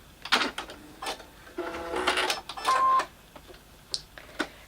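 Domestic sewing machine stitching down a fabric appliqué petal, several short bursts of close mechanical whirring and ticking, with a longer steady run in the middle, separated by pauses.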